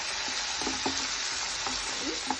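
Finely chopped tomatoes and onions frying in a pan for a spring onion curry, a steady broad sizzle with scattered pops and crackles, close and continuous with no talk.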